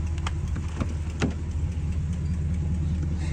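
Ram 1500 Hemi pickup truck with 257,000 miles idling close by, a steady low engine rumble with a few faint clicks and taps over it, no talking.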